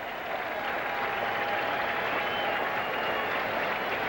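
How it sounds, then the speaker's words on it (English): Baseball crowd at a 1984 Reds at Mets game at Shea Stadium, a steady, dense roar of cheering and clapping from a large stadium audience, sustained and even throughout with no clear voices on top. "And with 2 strikes on Goulden, the crowd again getting behind Dwight."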